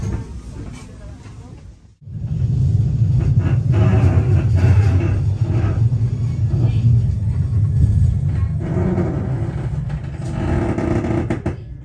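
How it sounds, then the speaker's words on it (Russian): A heavy, loud train rumble starts abruptly and continues steadily, with metallic clatter and a voice faintly talking over the noise. "Очень громкий поезд у нас."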